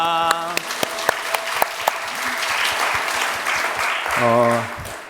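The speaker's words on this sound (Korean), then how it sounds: "우리 하나님께 영광의 박수 돌릴까요?" A church congregation claps together during a Sunday worship service, a full wave of applause swelling across the room while voices sound at the start and again near the end.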